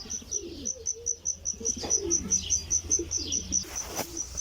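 Pigeons coo in low, rolling calls close by, while a steady, evenly spaced high chirping ticks throughout and a brief louder flutter-like burst comes near the end.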